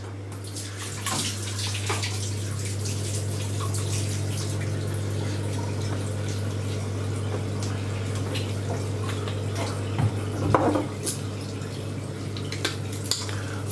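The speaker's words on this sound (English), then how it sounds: "wash your hands" Tap running steadily into a kitchen sink while hands are washed, a constant close hiss of water over a low hum, with a few light clinks and splashes.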